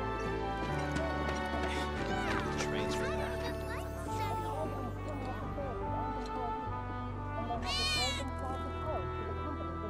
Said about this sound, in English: Wait, did you hear that just now? I think one of Betty's cats might be nearby.